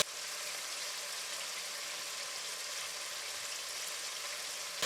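Beef browns in a hot pan for Egyptian braised beef and onions, giving a steady, even hiss of sizzling fat that runs on without a break at moderate loudness.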